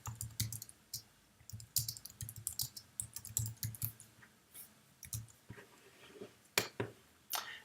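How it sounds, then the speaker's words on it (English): Typing on a computer keyboard comes through as quiet, close key clicks in irregular bursts and short pauses, with no talking. "I'm just going to type that in right now."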